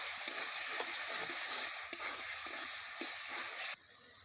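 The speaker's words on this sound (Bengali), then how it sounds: "তেল ছেড়ে গেছে মশলায়, মশলাটা কষা হয়ে গেছে" Masala of chopped tomato, bay leaf and meat spice frying in oil in a pan, a loud, continuous close sizzle with faint stirring scrapes, cutting off sharply near the end.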